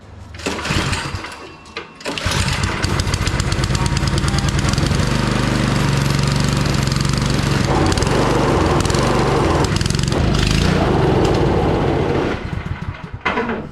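A snow blower's small engine runs rough after being choked and primed, a loud, close, uneven chugging that sputters briefly at first, then settles into a continuous rattling drone with slight surges near the end.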